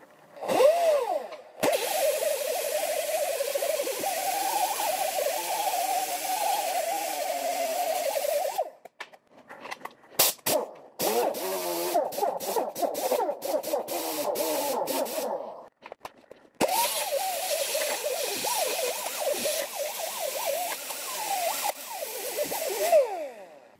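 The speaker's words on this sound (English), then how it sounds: "Now we'll get the corner weld smoothed down." Corner weld being ground and smoothed with a power tool, a loud wavering whine in long passes broken by short pauses and stop-start bursts.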